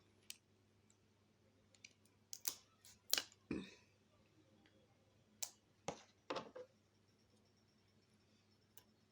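Scissors snip through butterfly wings being cut out for a resin craft, giving sparse, quiet clicks and snips spread irregularly over a near-silent background with no talk.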